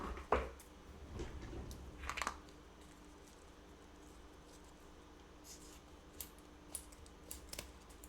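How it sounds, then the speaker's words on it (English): Scissors snip ribbon for an orange pomander at a craft table, giving a few faint, close crisp cuts early on, then scattered light clicks and rustles in a quiet room. "I'm going to get some scissors."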